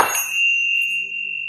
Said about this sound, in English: I also found these Tibetan bells